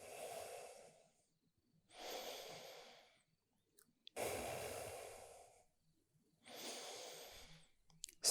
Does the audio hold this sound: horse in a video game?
no